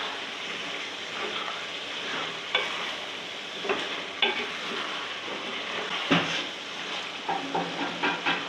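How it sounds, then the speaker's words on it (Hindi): Potatoes and vegetables frying for alu matar qeema sizzle steadily in a pan, with repeated scrapes and clatters of a stirring spoon growing busier toward the end, close and unaccompanied by speech. "अभी जैसे ये सब्ज़ी भून रही है"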